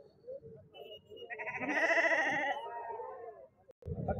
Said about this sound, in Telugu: ఎన్ని పొట్టేలు తెచ్చినావు ఇవి?